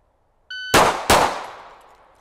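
Two sharp pistol shots fired in quick succession, about a third of a second apart, on a close-range two-target transition drill; loud and nearby with a metallic ring, preceded by a brief electronic start beep and trailing off into reverberation.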